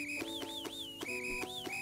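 A character in the video game Bread & Fred whistles a repeated rising-falling tune, clear and close, in short looping phrases with no talk.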